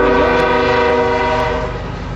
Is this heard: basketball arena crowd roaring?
no